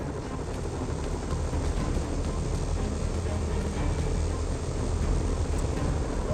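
Broad, steady low engine drone of helicopters hovering above a city in Marvel's Spider-Man on PS5, a constant heavy rumble with no pauses and no talking.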